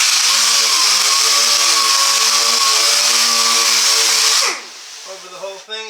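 A power sander running with 80 grit sandpaper gives a loud, steady motor whine with a harmonic hum that cuts off near the end, followed by a short voice.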